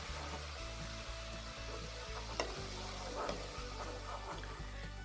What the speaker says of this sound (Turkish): Şimdi unu ekliyorum. Unu yağda kavuracağım.